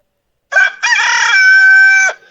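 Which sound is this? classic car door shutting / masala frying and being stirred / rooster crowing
rooster crowing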